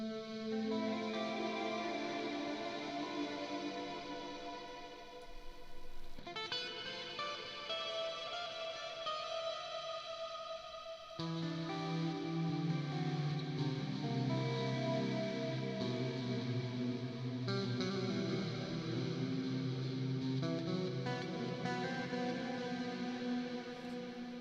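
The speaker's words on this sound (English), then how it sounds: "So reverb mode, let's go for big stereo." Guitar played through a big stereo reverb setting, sustained chords washing into long, spacious echoing tails, with a change of chord around six and eleven seconds. No voices.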